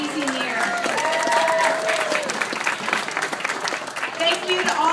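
An audience applauds at a regatta run awards gathering, with sustained, dense clapping close by and cheering voices mixed in throughout.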